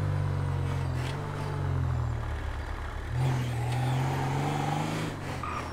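A car engine in GTA 5 runs steadily at idle with a low, rumbling, diesel-like hum, rising and falling slightly in pitch, with no one talking.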